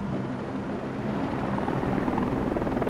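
An attack helicopter in the video game Far Cry 6 drones with a continuous rotor thrum, loud and steady throughout with no voices.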